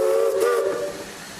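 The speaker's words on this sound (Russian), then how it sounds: "с паровозом." A steam locomotive whistle in San Francisco gives a single loud, hissing, tonal blast that fades out within about a second, with steam hiss around it and no voices.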